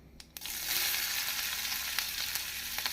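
Onions, garlic and green chillies sizzle and crackle in hot oil with mustard seeds after a couple of clicks, a busy steady frying hiss with scattered pops, close by and without speech.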